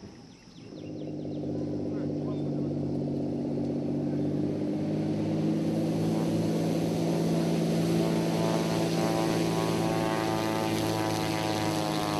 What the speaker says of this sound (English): Then the plane appears amongst the clouds and lands.